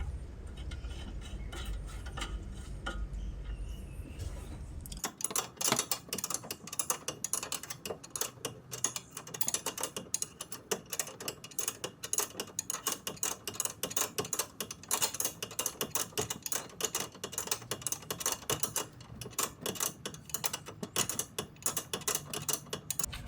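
A ratchet wrench tightening the bottom nut of a Maruti Swift suspension link rod, rapid continuous clicking close up after a brief low rumble at the start.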